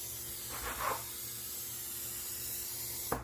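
Cooking spray hissing onto a pan in a home kitchen, a steady continuous spray with a brief louder burst near the start and a sharp tap at the end.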